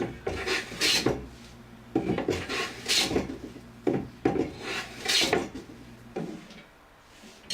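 A hand plane works along the edge of a ripped-in-half wooden 2x4 in repeated rasping strokes, each a bright scraping sweep followed by a brief pause, close and moderately loud.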